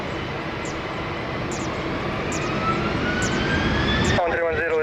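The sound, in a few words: jet airplane taking off at Lisbon Airport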